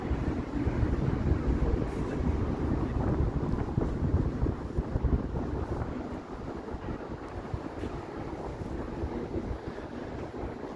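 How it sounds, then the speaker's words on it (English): Strong wind gusts buffet the microphone while walking through the Bay Street canyon between downtown Toronto towers, a loud, steady roar that stays dense and unbroken from start to finish with no voices. "Kind of a bit windier here now, walking through the Bay Street Canyon"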